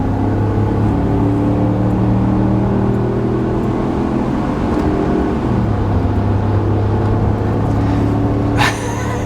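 A Ford F350 with a 7.3L gas V8, towing roughly 10,000 pounds at about half throttle, drones with a loud steady engine rumble that climbs slowly in pitch, heard from inside the cab without talk.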